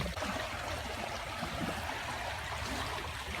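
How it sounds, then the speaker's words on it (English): Swollen Beaver Creek rushing after torrential rain on a farm, a dense continuous roar of flowing water close by, steady and loud with no voices. "that's Beaver Creek"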